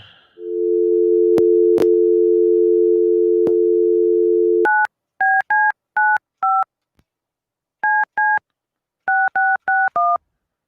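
A telephone line gives a steady dial tone for several seconds, then a quick series of dual-pitch touch-tone beeps is punched in, in short groups with pauses, loud and close with no talk.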